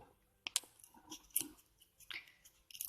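Scissors snip through craft material for a homemade Toy Story 4 Forky fork, giving a few sharp, quiet, close clicks and crunchy cuts spaced irregularly, with no talk.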